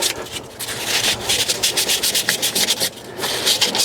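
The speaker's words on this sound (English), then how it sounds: "just get yourself a little sandpaper, right?" Sandpaper rubbed by hand over a metal part of a Masterbuilt Gravity Series grill to strip old coating, a close, loud rasping in quick back-and-forth strokes.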